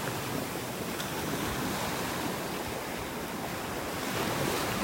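Rough ocean surf breaking steadily along the beach at Delnor-Wiggins in North Naples, Florida, a continuous loud wash of waves mixed with gusting wind noise, with no voices.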